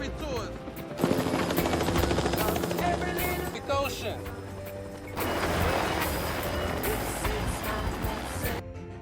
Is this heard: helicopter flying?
yes